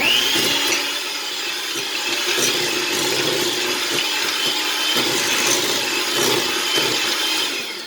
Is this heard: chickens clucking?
no